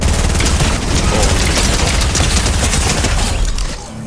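Rapid gunfire in Fortnite: a dense, loud, continuous burst of overlapping shots and booms that fills about four seconds before easing off at the end.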